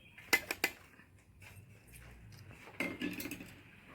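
A metal cooking pan is handled and set down on a home stove, giving three sharp close clanks early on, then a cluster of scraping knocks and clinks near the end, with quiet gaps between.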